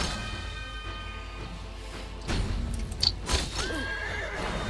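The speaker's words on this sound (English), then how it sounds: "Look at that horse, he just followed me." A horse in the video game Magicka neighs, a loud whinny rising partway through over steady game ambience and faint hoof clip-clops.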